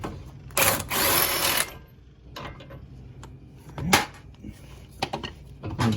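A bolt is backed out of the torque strut (upper control arm) on a Mercedes C230: a loud broadband burst of power-tool or ratchet noise runs for about a second, followed by scattered metallic clicks and short rattles close to the microphone.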